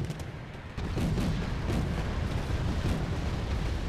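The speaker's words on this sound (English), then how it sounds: "you've got artillery incoming" Artillery fire rumbles in the Wargame AirLand Battle video game, a dense, continuous barrage of booms and low explosions that jumps louder after the first second and keeps going.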